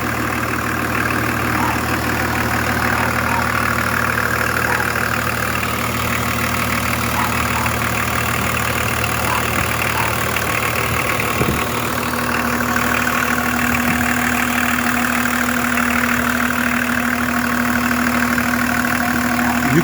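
A BMW 325 TDS diesel engine idles steadily and close by, a continuous low rumble with a faint rhythmic knock and no talk throughout.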